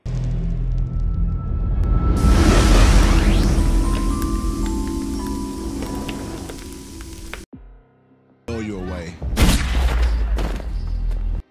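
Gunfire in a gangster crime film scene comes as a loud, dense burst of rapid shots and booming impacts, then cuts briefly to near silence before more sharp, loud effects.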